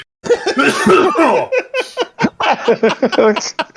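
A burst of harsh, rapid coughing up close, loud and ragged, broken into repeated hacking fits with laugh-like gasps between them.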